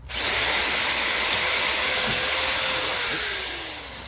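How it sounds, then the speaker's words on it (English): A powered wire wheel brushes over welds on an N54 part, a loud, continuous whirring hiss that holds steady and then slowly winds down. "I'm also going to hit it with this wire wheel real quick"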